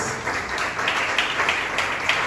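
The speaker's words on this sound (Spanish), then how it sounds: "Denle ese fuerte aplauso a Dios." A church congregation applauds during a sermon, a brief, steady mass of clapping hands heard from within the room, even in loudness throughout.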